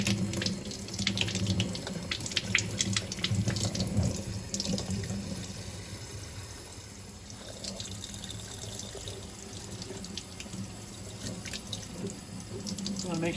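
Tap water runs steadily into a kitchen sink while fresh tomatoes, cilantro and jalapenos are rinsed under it, a continuous splashing hiss with shifting spatter as the produce moves under the stream.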